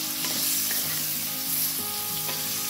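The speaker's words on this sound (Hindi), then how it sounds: "अभी 5 मिनट के लिए अच्छे से इसको फ्राई करते हैं" Potatoes and brinjal with turmeric frying on high flame, a loud dense sizzle running throughout, punctuated by a few regular stirring scrapes in the pan, with no voices.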